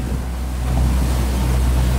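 A boat ride on the water in Granada, Nicaragua, heard as a steady low engine drone with wind rushing across the microphone and water washing past the hull, loud and continuous with no talking.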